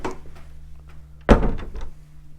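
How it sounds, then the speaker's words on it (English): A cabin door aboard a Fairline Squadron 58 yacht swings shut with one solid thunk, close and fairly loud after a quiet stretch, followed by a brief rattling settle. "That's the door, which I'll show you the other side of."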